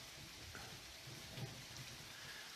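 Steady, dense rainfall from a passing thunderstorm pours down in a continuous hiss, close and fairly loud, with a faint low rumble underneath and no voices.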